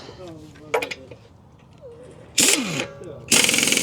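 An air impact wrench tightens a lug nut in two loud, close bursts of hammering rattle, with talk and light metallic clinks in the quieter stretch before them.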